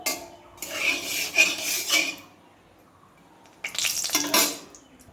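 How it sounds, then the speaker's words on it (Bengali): Two bursts of scraping and clinking as a utensil stirs ghee in a metal wok, separated by a quiet pause, with no voices. "এই যে ঘি দিচ্ছি কড়াইয়ে"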